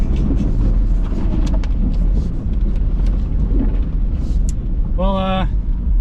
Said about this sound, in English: This is a 4-wheel drive mud burnout.